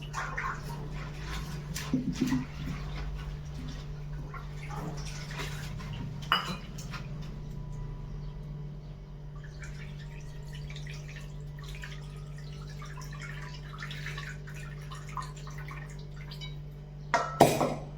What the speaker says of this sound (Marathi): तर आता चांगली धुवून घेऊ, कारण पावसाळ्यात माती असते ह्याला.